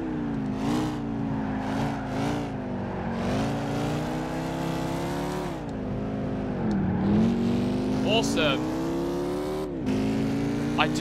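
BMW race car with a titanium exhaust in Gran Turismo 5, engine droning and revving steadily with rising and falling pitch throughout, loud and continuous, with a brief spoken remark over it.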